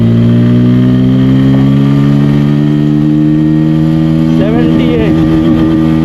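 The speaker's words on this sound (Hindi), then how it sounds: "एग्जॉस्ट का साउंड का भी मज़ा लीजिए।" Bajaj Pulsar N160 motorcycle in third gear, its exhaust droning loud and steady as revs climb smoothly throughout, with a brief wavering pitch change near the end.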